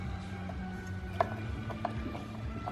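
A Phillips head screw is backed out of the throttle stop on a motorized cooler, giving faint, sparse mechanical clicks over a low steady hum.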